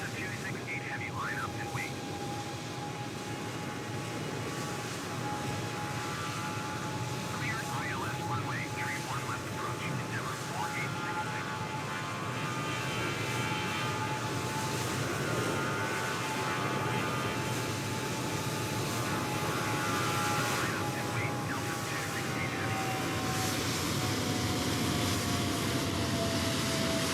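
A Delta Boeing 777 heavy jet departing runway 4 left at JFK in Microsoft Flight Simulator 2020 gives a continuous broad engine roar with a thin steady whine, and a radio voice talks over it.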